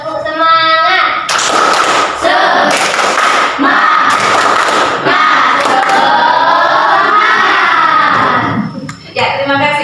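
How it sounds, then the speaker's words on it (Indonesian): A classroom of students performs a loud, rhythmic 'tepuk semangat' clapping chant with voices shouting along, sustained and close for several seconds before trailing off. "Jadi ice breakingnya ini ada tepuk semangat. Ibu minta tolong Mala ya untuk memimpin tepuk semangat."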